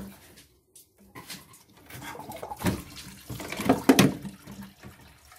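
Coolant liquid spurting and splashing from a cooling system hose on a Renault Fuego Turbo, heard as an irregular wet gushing and spattering that builds to a louder burst before easing off.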